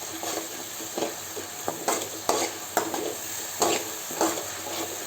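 Chilli chicken with tomato sautéing in a pan, with a gentle steady sizzle under repeated sharp scrapes and clinks of a spoon stirring against the metal, close and alone.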